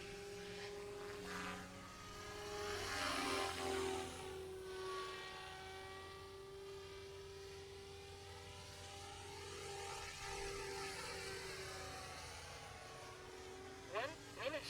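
A small OMP M4 RC model helicopter whines steadily overhead, its rotor hum and high motor pitch shifting as it moves nearer and farther, with brief voices at the end.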